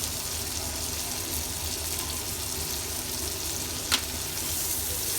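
Three sous vide steaks sear in a crowded skillet, a steady close frying sizzle with a continuous crackling hiss throughout and one brief sharp pop near the end, no voices.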